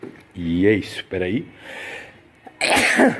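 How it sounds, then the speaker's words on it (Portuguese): A man sneezes sharply and loudly up close in a garage workshop while working on an engine stand. He speaks briefly just before the sneeze. "Eu vou espirrar, peraí."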